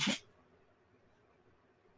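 A single short, sharp sneeze at the very start, followed by near silence.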